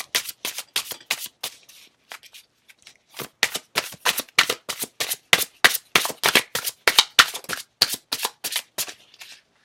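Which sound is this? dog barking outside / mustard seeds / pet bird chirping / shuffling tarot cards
shuffling tarot cards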